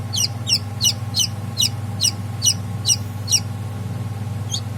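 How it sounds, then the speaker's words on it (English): A newly hatched Kadaknath chick peeps in a steady series of about ten bright, rising chirps, close and clear over a low continuous hum, with a final faint chirp after a short pause. "My first chicken hatched."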